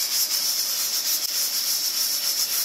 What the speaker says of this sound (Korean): 압력밥솥 소리도 좋다